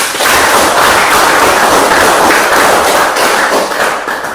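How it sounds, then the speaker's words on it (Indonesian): A class applauds together, a loud, dense burst of many hands clapping close by that keeps a steady, rough texture with no pause and no talking. "Tepuk tangan untuk kita semua"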